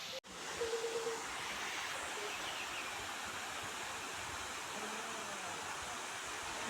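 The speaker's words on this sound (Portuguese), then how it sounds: "Já dá pra ouvir a cachoeira." The Véu de Noiva waterfall at Serra Pelada, heard from the trail as a faint, steady broadband rush that runs unbroken throughout, after a brief click at the start.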